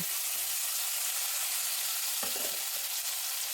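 Onion and tomato paste with spices fries in hot oil, giving a loud constant hissing sizzle, broken by a few brief scraping stirs near the middle, with no talk.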